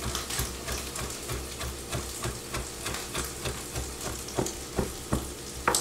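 Sausage frying in a pan gives a continuous sizzle with scattered pops and stirring scrapes, moderately loud and close, with no voices.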